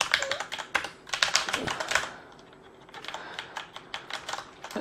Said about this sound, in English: It's a really slick mechanical key. It's quite a loud typer.